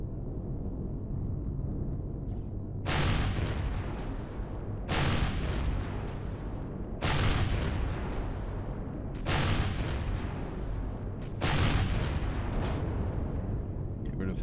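Heavy weapon blasts from the survival shooter Empyrion Galactic Survival, five booming shots spaced roughly two seconds apart over a constant low rumble, loud and near.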